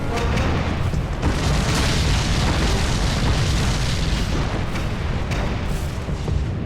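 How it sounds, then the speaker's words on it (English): Nine tank main gun HEAT rounds strike at once in a tank battle, a loud, sustained booming blast with heavy low rumble that rolls on without pause, no voices over it. "I say fire, 9 tank main gun rounds impact simultaneously"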